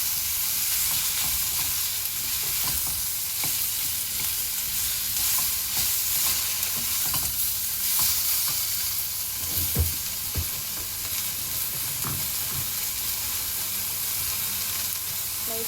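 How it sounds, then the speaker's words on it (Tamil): Boiled broccoli, cucumber, zucchini and carrot sautéed with onion in a pan, a steady close sizzle with soft stirring scrapes and occasional clinks, no talking. "அப்புறமேட்டு பாயில் பண்ண வெஜிடபிள் போடுங்க. ப்ராக்லி, குக்கும்பர், zucchini,"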